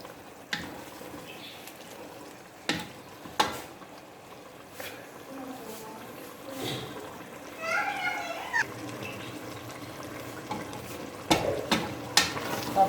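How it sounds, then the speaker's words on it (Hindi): Palak gosht, meat in spinach masala, is stirred in a frying pan: intermittent scrapes and clanks over a soft sizzle, spaced irregularly across the stretch. "अब हमने इसको अच्छी तरह मिक्स करना है मसाले में।"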